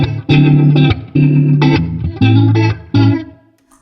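Electric guitar chords through a Strymon Lex rotary-speaker pedal and a Paul Reed Smith HX 100 amp ring out in several strummed bursts, swirling with a warbling, modulated effect and some distortion, loud and close.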